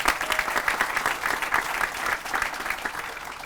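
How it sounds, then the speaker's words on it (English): A crowd at a circuit courthouse groundbreaking ceremony gives a councilman a round of applause, dense, loud clapping filling the whole stretch without pause. "Please give him a round of applause."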